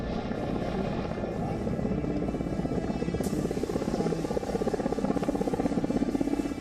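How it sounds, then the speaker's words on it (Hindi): Apache and Mi-17 military helicopters roar overhead in the sky over Ladakh, a continuous, loud rotor thrum with rapid chopping pulses that holds steady throughout, with no talking. "लद्दाख के आसमान में अपाचे और MI-17 की गर्जना।"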